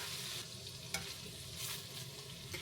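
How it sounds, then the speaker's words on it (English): A couple tablespoons of butter melt in a hot pan as the base for a carnivore biscuits-and-gravy sauce, giving a steady, close sizzle with a few soft clicks and pops throughout. "you are going to now put in a couple tablespoons of butter"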